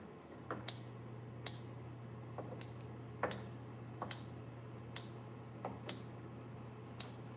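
Scissors snip through soft canned peaches in a quiet kitchen, a series of sharp, irregular clicks and snips close by over a steady low hum.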